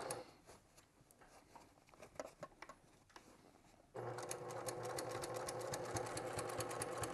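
A sewing machine stitching a zipper pouch, first with quiet rustling handling of fabric, then a steady, rapid mechanical whir of stitching that runs on evenly, close and moderately quiet with no talk.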